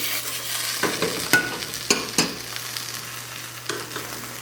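A mixture of raw egg and grated cassava goes back into a hot frying pan: a continuous sizzle broken by a few close knocks and scrapes of the pan and utensil.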